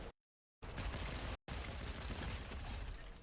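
Rapid automatic gunfire in Fortnite, a dense continuous burst of shots that cuts out briefly twice and then resumes, loud and unbroken, with no voices.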